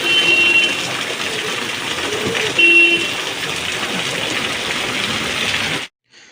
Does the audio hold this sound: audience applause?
no